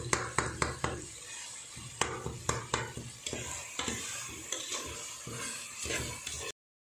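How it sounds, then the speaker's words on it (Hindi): Biryani masala cooking in a pan as dad stirs it, a steady sizzle with repeated scraping, clattering spoon strokes against the pan, close and fairly loud, no talking. "अब हमारे डैडी कुक कर रहे हैं बिरयानी का मसाला"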